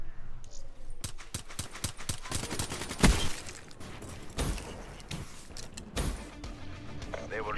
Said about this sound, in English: Gun blast.